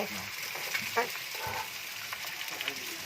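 Rice being sautéed in a pan for kimchi fried rice, a steady broadband sizzle with occasional scrapes and stirring clicks, fairly quiet and continuous throughout.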